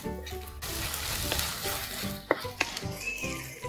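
Ginger and garlic sauté in a pan for crab gravy while a spoon stirs and scrapes, with a couple of sharp metallic clinks against the pan.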